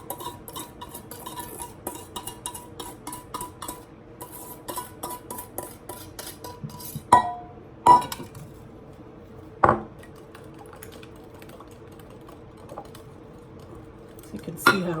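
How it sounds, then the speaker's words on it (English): Butter, sugar and egg whisked in a bowl, giving a quick run of light scraping and clicking strokes followed by a few louder knocks against the bowl, then quieter stirring. "whisking this together because I want the butter incorporated with the sugar and the egg"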